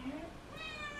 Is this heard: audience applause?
no